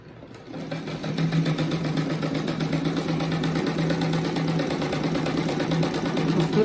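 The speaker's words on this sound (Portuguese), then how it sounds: "agora eu passo uma costura toda a volta dele" A sewing machine stitches around the edge of a rabbit-shaped placemat, starting after a brief quiet moment and then running as a continuous, even, close mechanical hum with a rapid rhythmic needle pulse.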